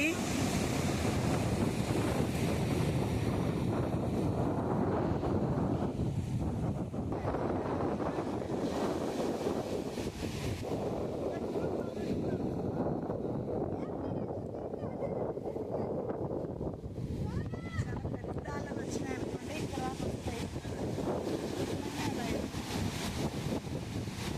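Sea waves wash and surge against the rocky coast at Silathoranam, Visakhapatnam in a continuous rumbling roar, with wind buffeting the microphone and brief voices in the background.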